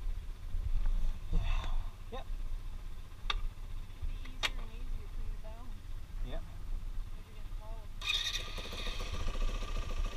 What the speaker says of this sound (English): I gotta turn on my ignition though.